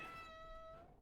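A house cat gives a single drawn-out meow, high and tonal, fading at the end, heard indoors alone in a quiet room.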